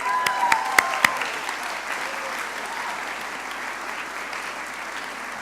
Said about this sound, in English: So put your hands together.